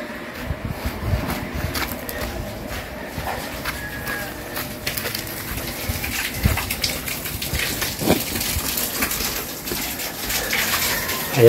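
Water gushing steadily into a concrete catfish pond for African catfish fingerlings, a continuous splashing rush that stays fairly even throughout, with faint bird calls in the background.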